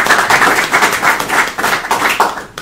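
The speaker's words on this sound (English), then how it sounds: "let's give a big round of applause to John" An audience applauds after a presentation at a marine-engineering talk, with dense, steady clapping loud and close for a few seconds before it thins out.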